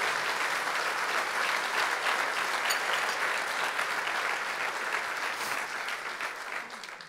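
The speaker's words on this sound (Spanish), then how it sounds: "Dale un aplauso fuerte al Señor." Steady applause from a church congregation fills the room, loud and dense throughout, fading slightly toward the end with no clear talk over it.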